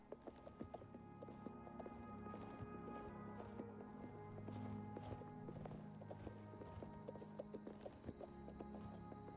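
Horse hooves clip-clop at a steady walking rhythm in a video game, quiet and continuous throughout with no voices over them.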